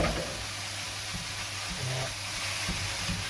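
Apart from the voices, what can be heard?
mincemeat and onion sizzling while frying in a pan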